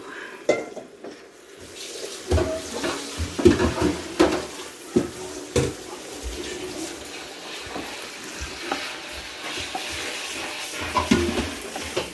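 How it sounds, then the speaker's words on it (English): A spoon scrapes and clanks through chicken curry in a large pot being prepared for pressure canning, with wet sloshing and irregular metallic knocks, close and fairly loud, no talking. "it's a workout to stir all that"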